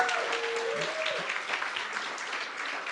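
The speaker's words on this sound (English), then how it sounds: "Let's give them a round of applause." An audience applauds panelists with a steady, dense clapping that holds at an even level for the full three seconds, with a brief voice at the start.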